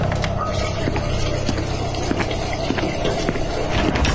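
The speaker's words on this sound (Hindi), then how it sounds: "तभी बाथरूम से पानी की आवाज आती है।" Water splashes down in a bathroom, a steady, dense rushing flow that continues unbroken at a constant level throughout.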